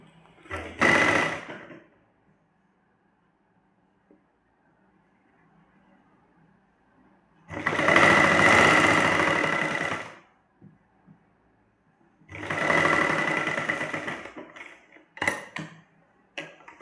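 A sewing machine stitches a seam on a state-style salwar being sewn with lace trim. It runs in three separate bursts of steady mechanical whirring and clatter, each lasting two to three seconds, with quiet pauses between them.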